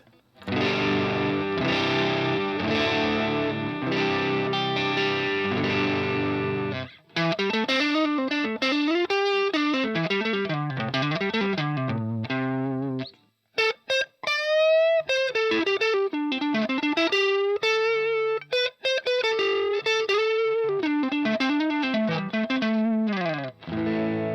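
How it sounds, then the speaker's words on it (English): An electric guitar plays a clean tone through a Boss AR-2 amp with no reverb, loud and alone: sustained chords first, then flowing melodic runs, with a brief gap near the middle. "This is clean tone, only using the amp. For example, for me now, I'm using the Boss AR2."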